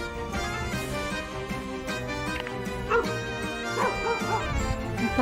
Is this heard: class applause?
no